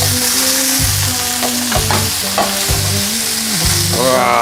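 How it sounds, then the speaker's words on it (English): Japanese curry being stirred in a wok sizzles loudly and close, with scraping strokes and clinks of the utensil against the pan over a continuous frying hiss. "stir it a bit"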